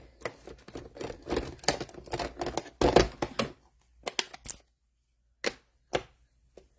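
A basket-weave texture rubber stamp is inked in Crumb Cake and pressed onto paper, giving a run of close dry taps and thumps, one firmer knock, then a few isolated clicks in silence.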